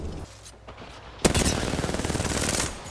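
Automatic weapon fire in the video game Apex Legends: a sudden loud burst followed by a rapid, steady stream of shots lasting well over a second, with no talking.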